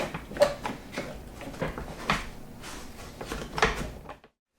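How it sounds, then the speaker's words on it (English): Clamps go onto a freshly glued wooden cabinet door, with a series of knocks, clicks and scraping handling sounds at close range that cut off abruptly at the end. "Now put some clamps on it. Hold her together while she dries."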